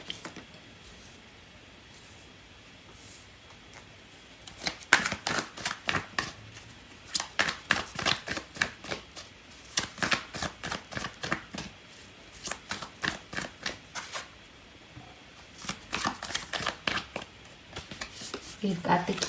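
A deck of tarot cards being shuffled in repeated quick riffling bursts, crisp rapid flicks in several separate runs with brief pauses between, close and fairly quiet.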